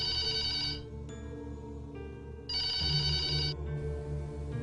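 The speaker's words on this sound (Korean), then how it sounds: "여느 때처럼 평온히 지내는 와중에 전화벨이 울렸다" A telephone bell rings in repeated bursts with short pauses between them, over a steady low hum in the background, in a Korean horror audio drama.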